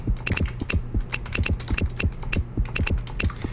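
Rapid, steady clatter of computer keyboard keys being typed to enter an answer in the trivia game You Don't Know Jack, close and alone with no talk.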